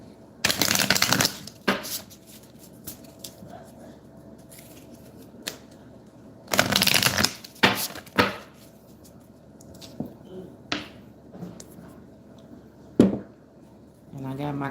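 Affirmation cards are shuffled in two loud, close riffling bursts, followed by scattered softer taps and flicks of cards being handled in a quiet room.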